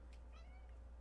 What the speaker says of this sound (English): when you stroke her, she meows